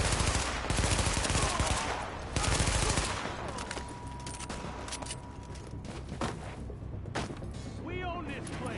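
Dense bursts of automatic gunfire and rapid volleys from the video game The Division, played on PS4, crackle close and loud over the first seconds, then ease into scattered shots beneath ongoing voices.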